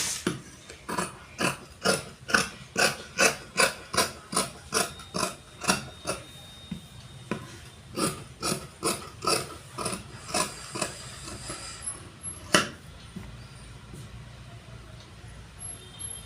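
Scissors cut cloth for a jacket sleeve at a tailoring table, giving a steady run of crisp, evenly spaced snips up close that slow and thin out toward the end.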